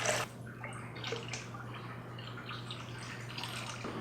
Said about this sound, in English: Now I am draining the tank for real. I just have a hose in there going down to the drain